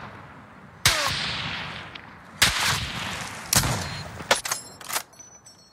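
Video game gunfire with several loud, sharp shots and bursts spaced a second or so apart, each followed by a short rumbling tail, ending in a quicker cluster of cracks.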